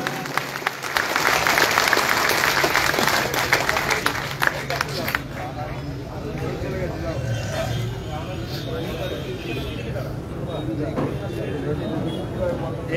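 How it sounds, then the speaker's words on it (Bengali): A crowd applauds to welcome guests, Amit Chatterjee and others, at a local political booth gathering, the dense clapping loud for about five seconds, then thinning into scattered claps and murmur under a speaking voice over an amplified background. "সবাই মিলে একটা করতালি, জোরদার করতালি দিয়ে।"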